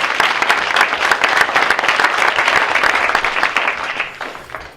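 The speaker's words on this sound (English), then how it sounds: "let's give these wonderful folks a round of applause" Steady audience applause fills the whole stretch, many hands clapping loudly and evenly from start to finish with no voices over it.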